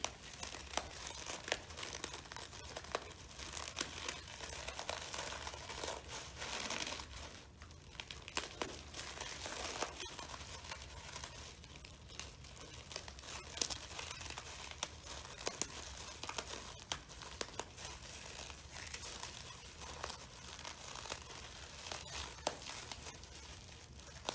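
Two hands squeezing a tightly zipped plastic bag of cake crumbs, a long continuous crinkling and crunching of plastic with irregular bursts, close and fairly quiet, with no talking.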